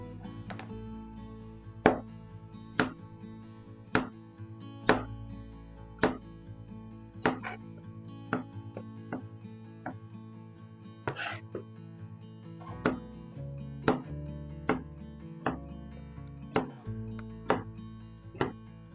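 A knife chops garlic cloves into fine cuts on a board, giving a steady run of crisp, close taps roughly every second, alone without talk.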